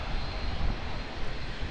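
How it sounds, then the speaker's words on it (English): Aircraft engine noise at Auckland Airport as an Air Chathams tug tows an ATR 72, a steady broadband roar heard nearby with no talking. "the Air Chathams Jeep, or whatever it is just towing the ATR 72"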